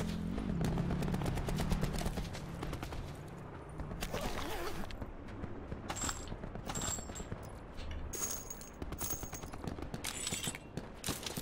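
Gunfire in Call of Duty Black Ops 4 on PS4 Pro: bursts of shots crack through a dense, continuous game soundscape. Several sharper reports land in the second half.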